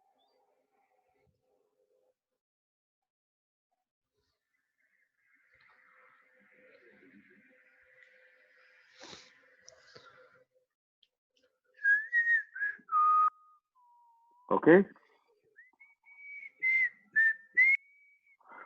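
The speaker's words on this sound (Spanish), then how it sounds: "Por ahí se oye un silbido." Several short melodic whistles, fairly clear and close, rising and falling in quick phrases, after a quiet stretch with faint background noise and a brief spoken word.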